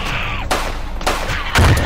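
Rapid burst of video game gunfire from shooting in Nuclear Outrun, several loud close shots cracking in quick succession with a heavier boom at the end.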